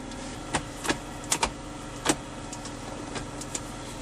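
A BMW E36, just converted to a manual transmission, idles with a low steady engine hum broken by several sharp clicks and ticks at uneven intervals.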